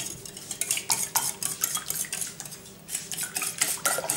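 Pancake batter whisked with a pinch of salt in a bowl, quick irregular scraping strokes of the whisk against the sides, close and fairly loud, with a brief pause midway.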